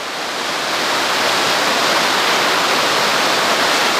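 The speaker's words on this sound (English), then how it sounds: "Walking through the water here." Rushing, splashing water churns steadily and loudly throughout as someone wades through hurricane floodwater during Hurricane Charley in 2004, with no talking heard.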